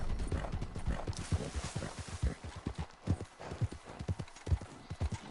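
A horse in Red Dead Online walks with steady, rhythmic clip-clop hoofbeats, close and continuous, over faint background noise.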